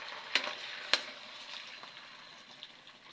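Garlic sautéing in cooking oil for a sardine and moringa leaf soup, a steady soft sizzle with two sharp clicks of a utensil against the pan near the start, no voices.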